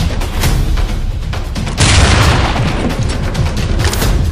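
A flashbang grenade goes off during a tactical police room entry in the game SWAT 4, a loud sharp boom partway through over a dense roar of sustained gunfire-like noise, with no speech.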